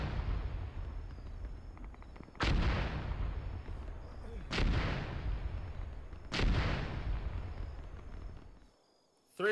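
High-explosive artillery rounds fired in a military video game: three heavy, distinct booms spaced about two seconds apart, each with a long rolling decay, over a low background rumble.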